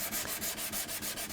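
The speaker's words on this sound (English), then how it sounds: "That might take a lot of extra sanding to get rid of those saw marks" Hand sanding rubs back and forth across a wooden jewelry box lid in an even rhythm of about eight quick, close strokes, each a bright scratchy swish.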